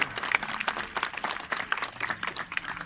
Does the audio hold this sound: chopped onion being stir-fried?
no